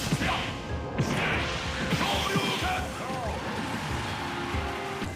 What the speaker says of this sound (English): Ryu's Shin Shoryuken.